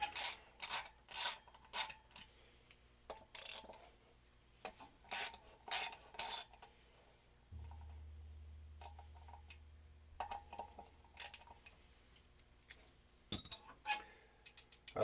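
Ratchet on a knurled extension loosening front brake rotor bolts on a Yamaha Road Star Silverado 1600 motorcycle, heard as repeated bursts of clicking with short pauses between them, close and fairly quiet, no talking.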